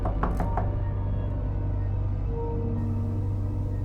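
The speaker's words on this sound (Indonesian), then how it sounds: "pintu kamarnya diketuk 3 kali dengan pelan" Three soft knocks on a bedroom door come in quick succession near the start, over a constant low hum and background noise, and no one speaks.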